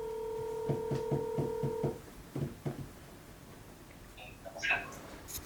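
Telephone keypad tones while placing a call: a quick run of about six short, evenly spaced dialing beeps, followed by a few fainter tones and clicks.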